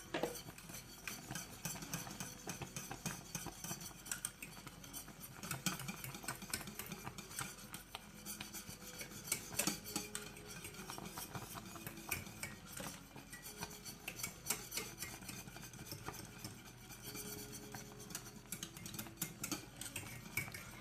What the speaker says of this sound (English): I did take my whisk and run around the sides because I didn't want sugar to sit up on the side